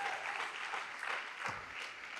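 An audience claps together at a sales recognition event, a brief, continuous burst of applause heard from a moderate distance.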